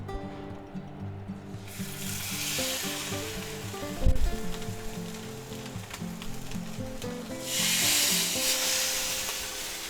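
Salmon fillets laid one at a time into a hot oiled pan: two loud surges of sizzling, a clack of pan or utensil between them, and a steady background crackle.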